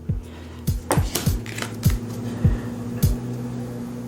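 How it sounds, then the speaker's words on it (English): Cards from an Enigma, A Game of Mystery deck are flipped one at a time, giving about six close, crisp snaps and taps at a fairly steady pace, with no voices. "I'll just flip through some of the cards here."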